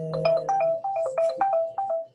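A mobile phone ringtone plays loud and close in a hair salon, a quick repeating electronic melody of short bright notes with no talking over it.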